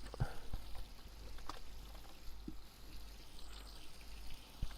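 Water rushes from steam locomotive injectors in a train simulator, a continuous low hiss and trickle with faint bubbling and a few small clicks, fairly quiet and steady, with no talking.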